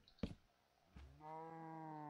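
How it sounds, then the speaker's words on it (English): Cow mooing in Minecraft, a drawn-out, fairly loud bellow after a couple of brief clicks, heard alone. "I guess that's the cow."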